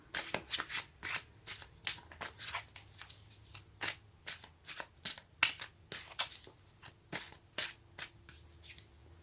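Tarot cards shuffled by hand in a rapid series of crisp riffling flicks, close and clear with no talk, during a reading before a card is drawn.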